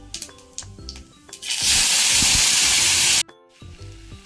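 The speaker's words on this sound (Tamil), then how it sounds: "எண்ணெய் விட்டு பெருஞ்சீரகம் போட்டு வெங்காயம் தக்காளியும் போட்டு வதக்கிக்கலாம்." Fennel seeds, onions and tomatoes hit hot oil for a dry fish curry, giving a sudden loud sizzle that lasts under two seconds amid clinking of a pan and utensils.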